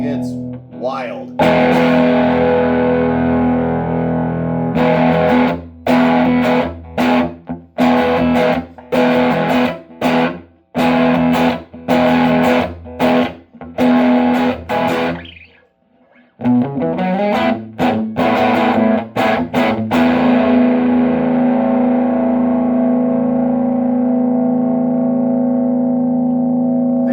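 Thinline Telecaster single-coil pickups driven through a Sound Salvage Wrecker 35 recycled tube amp with gain maxed, giving loud sustained distorted chords with abrupt choked stops and a brief gap before ringing resumes, in a house or apartment setting.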